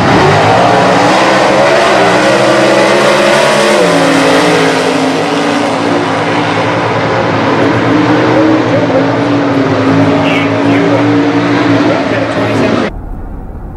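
Dodge Demon drag car, billed as the quickest production car over a quarter mile, roaring loud and close as it accelerates with rising engine harmonics for about thirteen seconds, cutting off abruptly near the end.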